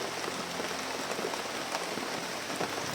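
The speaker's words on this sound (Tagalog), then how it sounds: "yung ulan ay lumakas." Heavy rain pours down in a dense, steady hiss with scattered drop impacts on surfaces, continuous and close with no voices.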